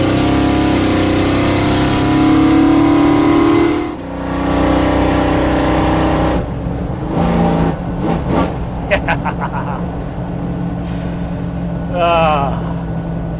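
An old Chevrolet Squarebody truck with new crossover steering drives over bumpy road, its engine a steady loud drone joined by thumps and rattles from the cab, while someone talks over it for much of the ride.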